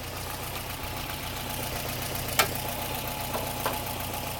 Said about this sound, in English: But there's the engine, runs pretty solid.